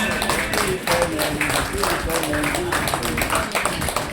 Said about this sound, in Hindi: ताली बजाइए ताली बजाइए